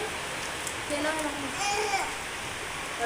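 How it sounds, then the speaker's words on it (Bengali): Steady rain hisses throughout, with a voice and soft talking heard faintly beneath the downpour. "বাইরে প্রচন্ড বৃষ্টি হচ্ছে না"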